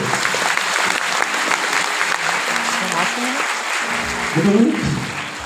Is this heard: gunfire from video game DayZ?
no